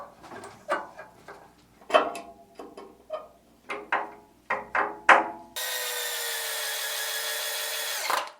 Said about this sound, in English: let me tighten these screws